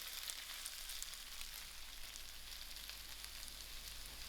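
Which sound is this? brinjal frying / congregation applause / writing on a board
brinjal frying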